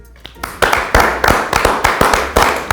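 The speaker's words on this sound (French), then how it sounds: "Donc on les applaudit." Rhythmic clapping from a studio audience on a French comedy show, about a dozen sharp bursts in a steady beat, loud and close with some voices mixed in.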